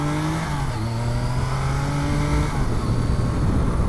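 A 1986 BMW K75c motorcycle engine pulling hard, loud and close, its pitch climbing through the gears with brief drops between shifts, steady road and wind roar underneath.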